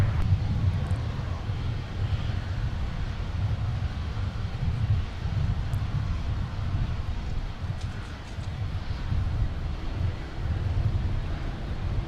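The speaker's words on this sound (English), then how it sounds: "they're doing some engine runs on the MD-11 that is parked out of view behind us at the FedEx terminal" Turbofan engine run-up on a parked FedEx MD-11 at an airport cargo terminal, a distant steady low roar with wind noise, under occasional talk.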